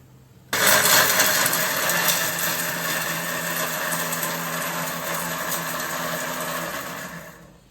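A kitchen grinder coarsely grinds a chunk of ginger into chutney, a loud steady whirring motor hum that starts abruptly and runs for several seconds before winding down.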